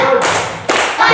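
A classroom of students does a rhythmic concentration clap routine: loud clap bursts with a distinct gap between them and voices chanting along, close and lively.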